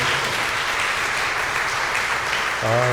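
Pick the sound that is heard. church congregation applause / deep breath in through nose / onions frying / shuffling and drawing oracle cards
church congregation applause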